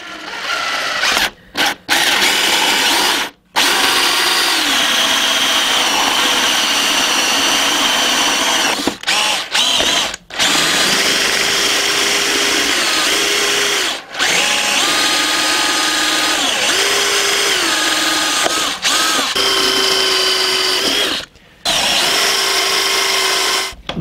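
Power drill boring holes through a dual sport motorcycle's plastic airbox, a loud continuous whine that surges and dips in pitch with short pauses between bursts, up close with no talking.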